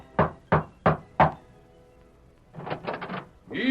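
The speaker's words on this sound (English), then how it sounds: "Tom Byerly rapped at the door of Mark Paulson's ranch house" Four sharp knocks on a wooden ranch house door land in an even rhythm for a radio drama scene. A pause follows, then a short burst of softer thuds, and a voice begins at the end.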